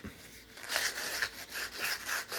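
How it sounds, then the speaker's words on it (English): Sandpaper rubbing by hand over a metal part from a Singer 401A sewing machine, a close, steady series of soft scratchy strokes repeating in a loose rhythm, with no talking. "We're going to take a little bit of sandpaper, clean it up"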